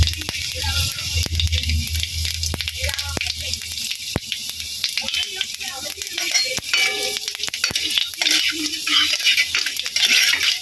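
Panch phoron and dried red chilies hitting hot oil in a kadai, a steady close sizzle with scattered crackles and pops, plus a low rumbling hum at the start.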